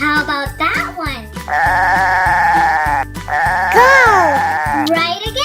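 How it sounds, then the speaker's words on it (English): A goat bleats in long, wavering calls, two drawn-out cries in a row, loud and near, layered over a cheerful children's music bed. "It was the goat!"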